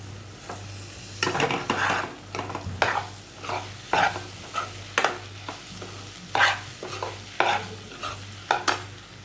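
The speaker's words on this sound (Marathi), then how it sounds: "जरा 2 सेकंद आपण परत एकदा परतून घेऊया व्यवस्थित" Egg bhurji being stirred and fried in a pan, with a steady sizzle under repeated scraping strokes of a spatula at an irregular rhythm, close and clear with no talking.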